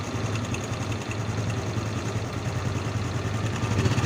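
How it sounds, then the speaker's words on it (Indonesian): A rough-running Honda Supra X 125 motorcycle engine idles close by, giving a steady low throbbing rumble with a faint irregular rattle, holding an even level throughout with no voices. "ini suara mesinnya agak kasar"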